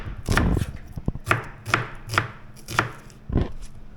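Knife chopping onions on a board in an outdoor kitchen in rural Thailand, a series of sharp close thunks in an uneven rhythm over a faint background hum, no speech.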